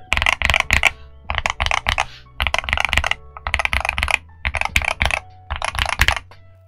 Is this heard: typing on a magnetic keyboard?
yes